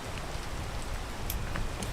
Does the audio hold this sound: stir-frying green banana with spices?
no